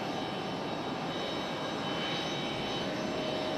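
An ITA Airways airliner at Raleigh-Durham International Airport gives off a steady, even engine roar, fairly faint and distant, unbroken for the whole stretch with no voices.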